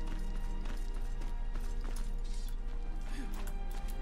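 A horse gallops in Skyrim, its hooves pounding in a steady rapid rhythm under a constant game soundscape with occasional clanks and thuds, loud and close.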